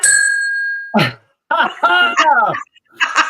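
A single bright bell ding rings out at the start with a clear sustained tone that fades within a second, followed by close speech from people talking.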